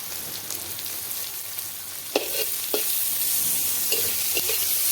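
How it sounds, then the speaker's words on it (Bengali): Garlic paste sizzles in a pan as a spoon stirs it, a continuous frying hiss broken by a few sharp scrapes and clacks, close and alone. "এরপর এর মধ্যে দিয়ে দিচ্ছি রসুন বাটা"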